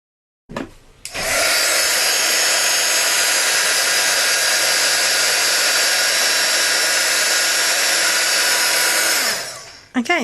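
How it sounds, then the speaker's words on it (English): A heat gun blows steadily and loudly for about eight seconds, melting white embossing powder on Very Vanilla cardstock while making a Stampin' Up Mother's Day pop-up box card, with brief clicks at start and end. "just using my heat gun, I've heated up the white embossing powder on Very Vanilla"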